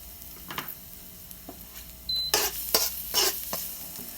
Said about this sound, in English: We're gonna fry up some ginger.